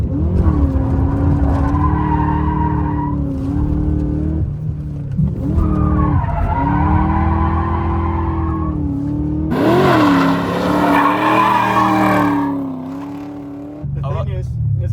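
A BMW E39 M5 sliding sideways through corners on track, with its engine loud and close as it revs up and down and the tyres squealing as it drifts.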